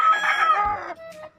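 A rooster crows loudly and close by, one long drawn-out call that tails off into a shorter note, with no talking over it.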